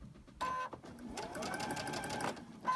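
Sewing machine chain stitching a long, heavy strip of fabric, whirring steadily in a sustained run after a couple of short starts, close and moderately loud.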